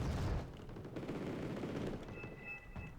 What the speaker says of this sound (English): Maglans are getting hit by artillery